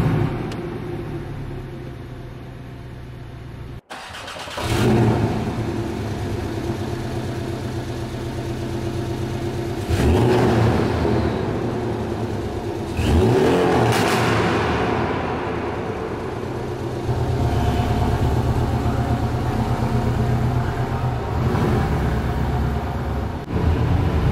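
A Porsche engine starts and revs in sport mode with the exhaust flaps open, a steady loud rumble with several rising rev surges, alone.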